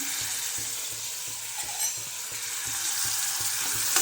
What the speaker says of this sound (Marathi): कांदा घ्यायचा तेलामध्ये तळून